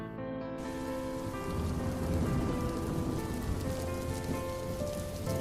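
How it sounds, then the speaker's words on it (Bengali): Light rain falls steadily at night, a soft continuous patter that fills the scene from start to finish, with faint sustained tones underneath. "আচমকা মৃদু বৃষ্টি নামে।"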